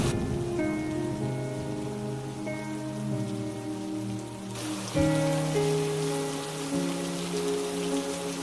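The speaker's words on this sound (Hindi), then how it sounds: "दिनों बाद गांव में भयंकर बारिश शुरू हो गई।" Heavy rain falls steadily over a village, a constant soft hiss beneath sustained background music with no pauses.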